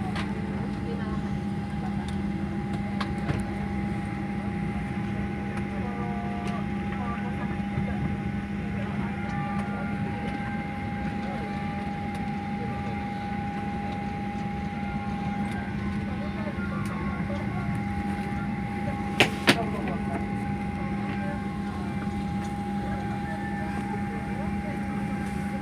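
Cabin of passenger airplane flight GA 118: a constant low engine drone and hum fill the space evenly, with faint voices and a couple of brief clicks in the background.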